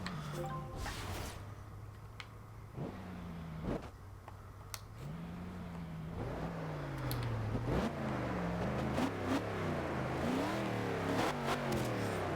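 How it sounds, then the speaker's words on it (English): Engine of a 1963 Chevrolet Corvette C2 V8 in Forza Horizon 2, idling and then revving up in repeated rising pulls through the gears, growing louder and more sustained toward the end, with no talking. "I just love the sound of that V8."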